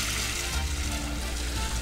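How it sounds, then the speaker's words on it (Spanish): Water pours steadily over dried yellow maize for nixtamalization, a continuous broadband rushing splash that stays loud and even throughout, with no pauses. "Vamos a agregar agua."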